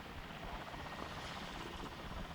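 A helicopter over the Chernobyl nuclear power plant in 1986, a steady, broad, continuous rotor and engine drone heard at a distance, faint and unbroken with no speech.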